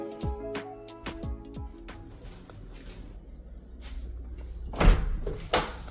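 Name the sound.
pocket door sliding in a bedroom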